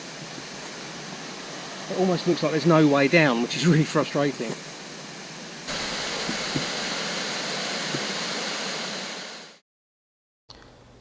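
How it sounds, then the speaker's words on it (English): Steady broadband rush of a waterfall near a river on a hike, heard from above rather than close by, running under a person's talk and continuing alone before cutting out briefly near the end. "There's really nice waterfalls down there."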